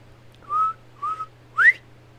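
A person whistles three short rising notes in imitation of a bobwhite quail's call, the last note sliding sharply upward, clear and close against a low steady hum.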